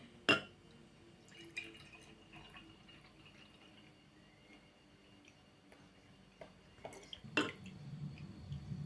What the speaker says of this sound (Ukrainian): Тепер будемо наливати сюди молоко.